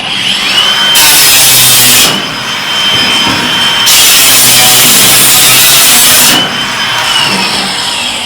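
A power saw cuts stucco mesh laid over a plywood subfloor, giving loud, harsh, sustained cutting noise in three long bursts that ease briefly between passes, close up with no talk.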